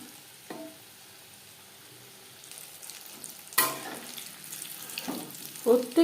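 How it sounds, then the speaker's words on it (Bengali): Chicken pieces for a crispy chicken fry are browning in hot oil over a lowered flame, a soft steady sizzle that swells into louder bursts of spattering and stirring toward the end. "প্রত্যেক ব্যাচের চিকেন একইভাবে ভেজে নেব। এইভাবে লালচে করে ভেজে নিতে হবে।"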